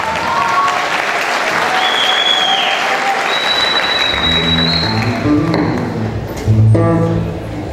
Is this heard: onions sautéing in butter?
no